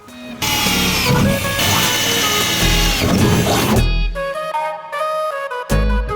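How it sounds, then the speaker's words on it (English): A power drill punches holes through a camper van wall, a loud, sustained whine that drops in pitch partway through, then stops and restarts briefly. "now we're about to punch holes through this outline so that we can see when we're outside where we need to cut"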